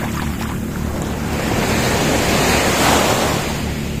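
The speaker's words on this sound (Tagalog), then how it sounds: "Medyo malakas ang alon ngayon," Strong ocean waves break on a beach in Ilocos Norte, a loud steady roar of surf that swells slightly midway, with wind buffeting the microphone throughout.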